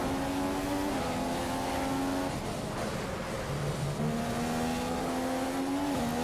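A Formula 1 race car engine in the video game F1 2015 at the Russian Grand Prix holds a loud, steady high-pitched whine that shifts pitch as gears change, continuous and close throughout with no talking.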